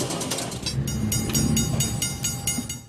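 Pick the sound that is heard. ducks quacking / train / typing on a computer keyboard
train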